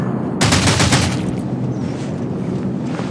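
Rapid automatic gunfire in the Rules of Survival battle royale game, a loud burst of dense shots lasting about a second. Fainter scattered shots follow at a distance.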